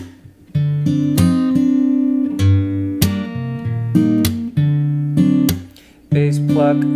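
Fingerstyle acoustic guitar plays a pattern of bass note, pluck and a quick melodic riff, sharp percussive attacks alternating with ringing chords in a bouncy rhythm, close up and unaccompanied.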